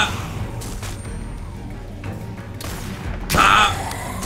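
Gunfire in The Walking Dead video game, a single loud shot bursting out near the end over a busy game soundscape with low rumble and scattered impacts.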